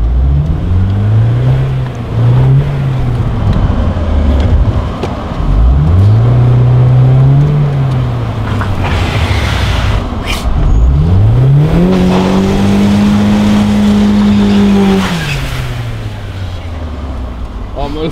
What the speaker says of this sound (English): Will it do a burnout, you think? It'll do a burnout.